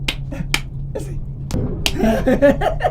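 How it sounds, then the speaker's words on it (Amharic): Sharp hand claps ring out one after another, spaced irregularly, to summon a waiter, followed by voices talking and chuckling over a low background hum. "ዝም ብዬ ሳጨበጭብ ነኝ።"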